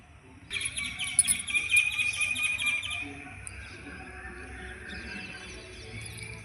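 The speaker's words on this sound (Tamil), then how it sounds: "காக்கா கத்துது பயந்துடுது" A crow calls from a tree outdoors in a short burst of sharp, repeated cries over about two seconds, then quieter background noise follows.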